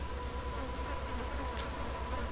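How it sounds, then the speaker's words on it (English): Insects buzzing from a swarm of bees in the video game Ghost Master, a steady continuous drone with a faint pulsing hum beneath it and no talking. "I think we need Stonewall's Tremor to get rid of these bees."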